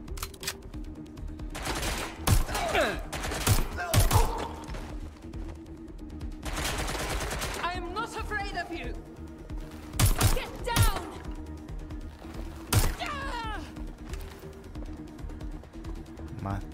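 Gunfire in the video game Watch Dogs Legion comes as sharp bursts of shots, some in quick clusters and some single. Several loud cracks are spaced across the clip, with someone talking in between.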